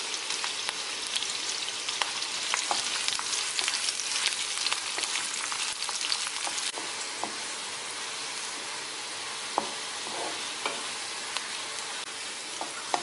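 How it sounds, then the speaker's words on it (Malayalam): Sliced onions fry in hot ghee in a pan, a dense crackling sizzle that runs loud and continuous with scattered pops and stirring clicks, no talk. "നമുക്കിനി നട്ട്സും കിസ്മിസും സവാളയും വറുത്തെടുക്കാം"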